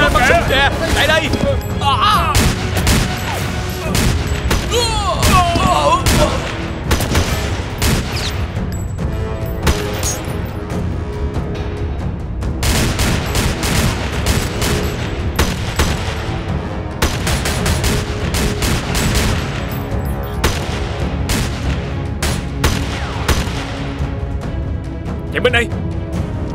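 Bursts of gunfire crackle repeatedly throughout, sharp shots and rapid volleys mixed with loud background commotion and shouting voices.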